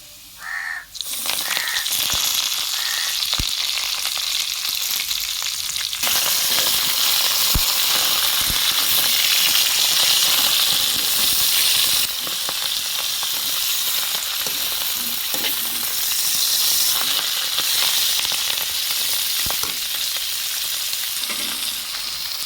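Loud, continuous crackling sizzle of gongura greens frying in hot oil, close up, with occasional stirring clatter and faint birds cawing in the background.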